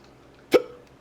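A single sharp hiccup bursts out in a quiet room, brief and loud, then fades quickly with no talking around it.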